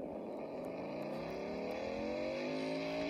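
Fast car revving in the Roblox game Car Dealership Tycoon, a loud continuous engine whine climbing steadily in pitch as it accelerates, alone with no talk.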